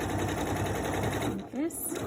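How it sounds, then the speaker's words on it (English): A sewing machine stitches down a piece of fabric with a rapid, steady mechanical whir close by, briefly pausing and restarting near the end. "I then sew down the piece of fabric"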